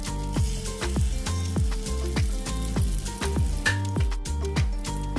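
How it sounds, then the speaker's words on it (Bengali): Egg-dipped bread slices for French toast sizzle steadily in a hot frying pan, close up, with a rhythmic pulsing beat running underneath. "এক এক করে সব এবার ফ্রাই করতে দিয়ে দিচ্ছি"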